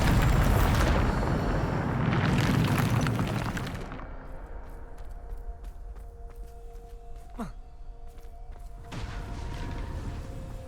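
Bombarda explosion spells in Hogwarts Legacy go off as two heavy, roaring blasts close together, then a quieter rumbling stretch and a third burst near the end, loud and close.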